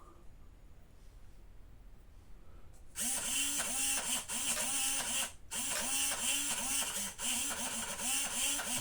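After a quiet start, the small steering servo of a Tamiya Neo Fighter RC buggy whirs loudly in quick repeated back-and-forth strokes, each rising and falling in pitch, with one brief pause.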